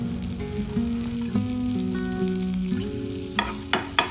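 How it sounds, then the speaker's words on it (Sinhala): Garlic frying in melted butter in a pan, a steady sizzle with some tonal background hum and a few sharp clinks near the end. "ඊට පස්සේ බටර් ටික මේ විදියට හොඳට මෙල්ට් වෙන්න ඇරලා අපි මේකට එකතු කරගන්නවා සුදු ලුණු ටික."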